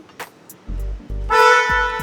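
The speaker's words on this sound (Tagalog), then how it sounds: "So, tingnan naman natin kung ano yung tunog ng horn." A 2024 Kia EV6 GT horn honks in two short blasts, then a longer, brighter bleat, loud and close with no talking.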